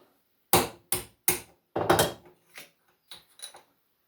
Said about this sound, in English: I've got a special knife that I use for splitting